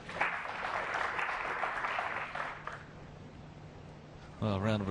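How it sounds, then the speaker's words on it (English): Polite audience applause in a snooker arena at the Saudi Arabia Masters 2024 match between Ronnie O'Sullivan and Lei Peifan, a soft distant patter that fades out before a commentator's voice begins. "Well, a round of applause"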